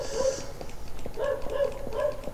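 Dog barking in the block-building video game Minetest, a run of repeated close barks and yips with a short whine at the start, steady and fairly loud with no talk over it.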